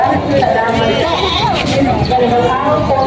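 Goats at a busy livestock market, where they are sold and loaded for transport, bleat repeatedly amid a steady crowd murmur and people talking nearby.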